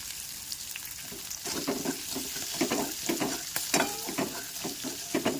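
Ingredients being sautéed for a mixed dal dhokla idli batter, with a soft sizzle under repeated scraping and stirring strokes from a spoon in the pan, irregular and close, fairly quiet overall.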